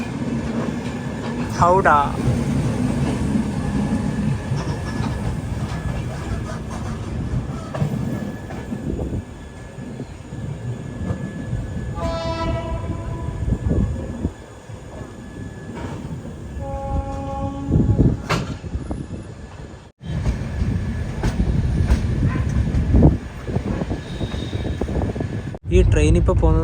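An AC Express train runs from Coimbatore to Hisar through sandy desert country. The rumble of wheels on the track is continuous, with tonal horn or squeal notes now and then, and someone talks over it.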